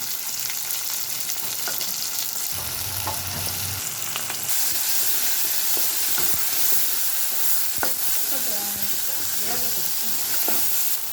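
Ingredients with salt and curry leaves are sautéed in a pan for kuzhambu, giving a continuous bright sizzle with scattered spatula taps and a low rumble partway through.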